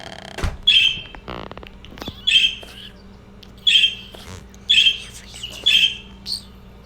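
A bird chirps in five sharp, evenly spaced bursts, close and fairly loud over faint background noise and a few thumps.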